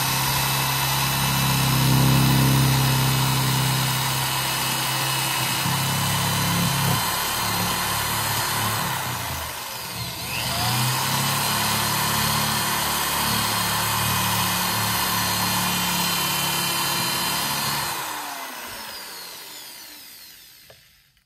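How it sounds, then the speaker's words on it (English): Power drill boring through a car frame, a steady loud whine with a heavy low drone that dips briefly midway, then runs on before cutting off near the end, no talking. "just keep drilling through"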